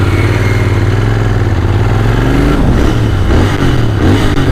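A Royal Enfield Continental GT 650 motorcycle idles close by with a low, even, muffled stock exhaust burble, lifting slightly in pitch near the end.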